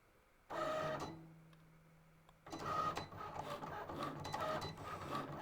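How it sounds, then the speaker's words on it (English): A Cricut Explore 3 cutting machine runs with whirring motor bursts and mechanical carriage movement, starting and stopping, fairly close and with no voices. "the nice thing about the Cricut Explorer 3 is it cuts super fast, so we won't have to wait long."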